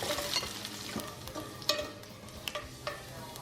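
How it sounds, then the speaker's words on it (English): Chopped onion sauteing in hot oil in a preheated pan: a continuous close sizzle with repeated scraping stir strokes and small clatters, no voices. "Once heated, saute your chopped onion to flavor the oil."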